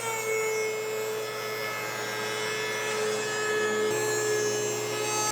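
A planer with helical blades mills walnut boards, giving a steady, loud machine whine with a dense broadband cutting roar that continues without a break and swells slightly near the end.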